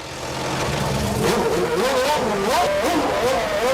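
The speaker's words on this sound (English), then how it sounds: "The power starts to surge from the 10 cylinders, and the C17, with its 750 horsepower Sauber Petronas engine, roars out onto the 3-kilometre-long track" A Sauber C17 Formula One car with its 750-horsepower Sauber Petronas V10 roars onto the Fiorano test track on its first rollout, the engine building from a rumble to a loud, wavering high-revving wail as it pulls away.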